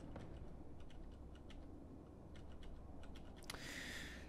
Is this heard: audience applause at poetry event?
no